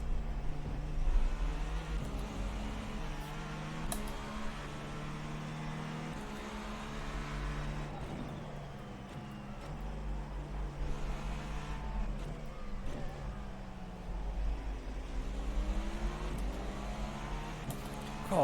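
Cadillac race car engine in iRacing, a sustained droning roar that shifts in pitch as cars pass and change gears, fairly loud and continuous, with no talk.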